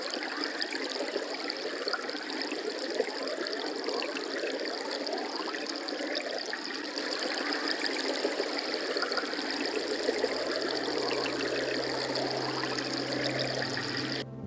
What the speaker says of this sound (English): I firstly laid down the microphone into a little pocket of running water, thus creating this rather interesting wave effect.